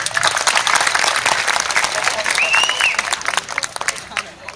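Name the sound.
audience applause at a Balinese children's bondres performance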